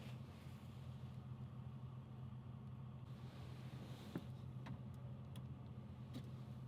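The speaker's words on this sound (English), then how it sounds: "I'm gonna let the truck warm up for a little bit" A truck engine idles to warm up in freezing weather, a steady low rumble throughout with a few faint clicks and ticks above it.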